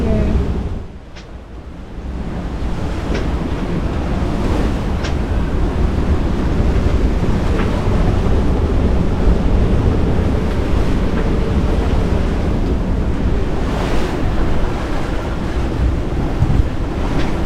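Wind and ocean wash roar steadily on an open-sea sailing passage from New Zealand to Tonga, loud and continuous, with gusts buffeting the microphone.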